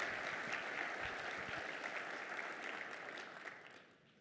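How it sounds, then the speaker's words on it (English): Conference audience applauding a speaker, a broad wash of many hands clapping heard from a distance, steady at first and gradually fading away toward the end. "Let's give Yina a round of applause."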